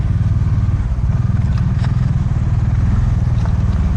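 A motorcycle engine thrums steadily at close range while being ridden, a loud pulsing low rumble with light clatter and no talk.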